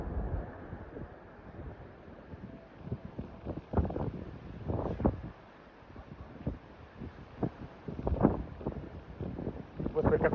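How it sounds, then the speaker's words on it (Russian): Strong wind buffets a microphone outdoors in gusty, uneven rumbling bursts that swell and fade throughout, with no talk over it. "Господи, какой ветер поднялся"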